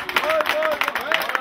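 Wedding guests clap in a quick burst of scattered, overlapping applause, with a sung or spoken voice gliding faintly over it for just over a second.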